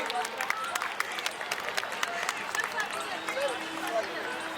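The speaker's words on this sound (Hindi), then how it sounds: "हमारे जोन की नेहा मैडम आ चुकी है, उनका भी हम जोरदार तालियों से स्वागत करेंगे।" Welcoming applause from a crowd at an outdoor school annual sports day, faint and somewhat distant, with scattered claps spread across a steady background of crowd noise and murmur.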